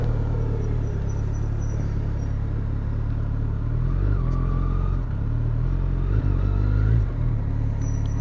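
A Kawasaki Concours 14 engine rumbles steadily with a deep, throaty Delkevic aftermarket exhaust, rising in a few revs and pitch shifts, fairly close and loud.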